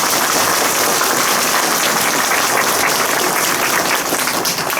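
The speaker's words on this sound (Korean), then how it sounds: "박수 좀 부탁드립니다" Residents at a housing conversion briefing meeting in Korea give a loud, dense round of applause, close and continuous, with no talking over it.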